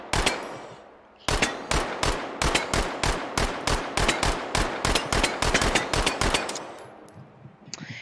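Submachine gun fired in the H3VR virtual-reality shooter: a single shot, then a steady rhythm of sharp, evenly spaced reports, about two per second, loud and close with no talking.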